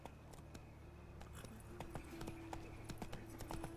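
Roach the horse's hooves clip-clopping in The Witcher 3, a steady run of sharp hoof strikes on hard ground at a walking pace, fairly faint under ambient game sound.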